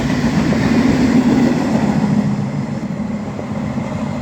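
A freight train passes at Morwell, Victoria, Australia, with a couple of empty wagons at the back, making a steady loud rumble and rolling roar that holds close throughout.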